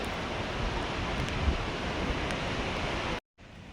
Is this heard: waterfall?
yes